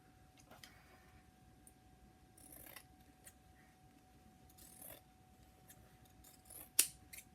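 Scissors trimming fabric for a double-hoop Christmas wreath, faint scattered snips and rustles with one sharp, louder cut near the end, recorded close in a quiet room.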